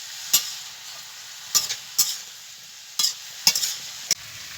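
Raw jackfruit frying with turmeric and salt gives a faint low sizzle, punctuated by six or so sharp, close spatula scrapes and knocks against the pan at irregular intervals.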